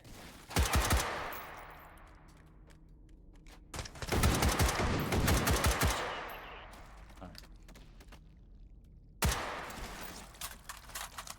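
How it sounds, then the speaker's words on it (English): Bursts of rapid automatic gunfire in a video game, in three separate volleys, with quieter gaps between them and sharp echoing cracks. "the relaxing sounds of distant gunfire."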